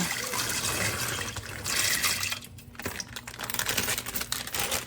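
Dry red kidney beans pour from a bag into a pot of water for Jamaican rice and peas, a dense rattling patter and splash that runs for several seconds, briefly eases, then picks up again, close and fairly loud with no talking.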